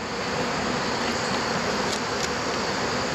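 Honeybees swarm around a hive as it is being closed up, a loud, dense, continuous buzzing close by that holds steady without pause.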